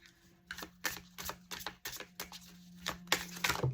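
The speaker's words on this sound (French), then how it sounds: "Alors je vais aller remélanger et puis vous faire un petit tirage, bien sûr." Oracle cards being reshuffled by hand, a rapid series of crisp papery riffles and snaps, about ten bursts close up with no talk over them.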